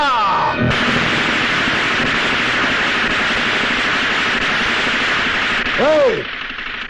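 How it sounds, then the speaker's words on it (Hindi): Dense, roaring film-action din of gunfire and explosions fills a Hindi action movie scene, a loud continuous wash ending in sweeping whooshes, with a brief voice at the start. "बंद कर तेरे ये पटाखे।"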